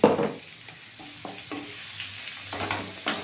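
Onion and ginger paste hits a hot pan and sizzles, followed by a few close scraping strokes of a spoon stirring it, with a low steady fry underneath.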